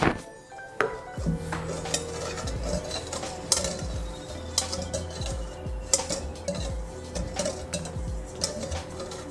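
A utensil stirs chicken liver bistek in a pan with black pepper, giving steady clinks and scrapes against the metal over a continuous low sizzle, close and fairly loud.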